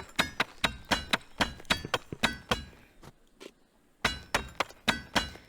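Hammering a blade at the forge in the VR game A Township Tale, a steady series of sharp glassy shattering clinks roughly every third of a second, loud and close, with a brief pause before the strikes resume.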